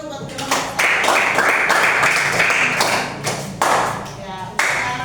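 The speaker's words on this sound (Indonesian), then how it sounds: "Tepuk tangan dulu buat kelompok 1." Classroom applause for a student group after its presentation: many people clapping steadily and fairly close for about four seconds, with brief voices mixed in.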